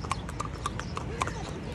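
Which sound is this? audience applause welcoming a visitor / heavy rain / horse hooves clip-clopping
horse hooves clip-clopping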